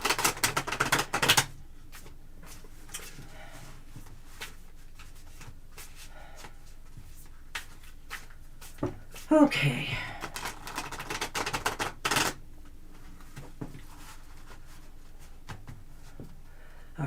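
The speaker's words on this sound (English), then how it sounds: "And I will shuffle the good tarot and let you pick one" Tarot cards are riffled and shuffled in quick papery bursts, with quieter fiddling between them and a brief spoken word near the middle.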